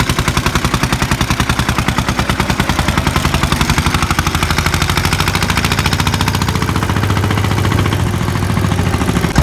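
A tractor engine chugs loudly and close, a rapid, regular diesel putter that pounds on steadily throughout with no talking.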